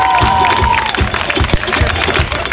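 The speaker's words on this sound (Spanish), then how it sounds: "Un aplauso, por favor" A crowd claps and cheers at a country band concert in Álamos, steady applause throughout with scattered shouts and low drum-like thumps beneath.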